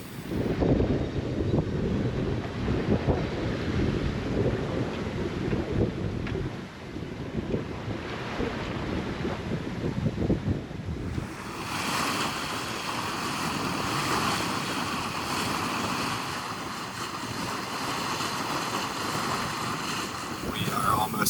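Sailboat underway in about 12 knots of wind, moving at 5.5 to 6 knots while tacking upwind off the Mexican coast near Yelapa. Heavy wind buffeting and rushing waves dominate, then shift to a steadier hiss of water along the hull, with voices at times.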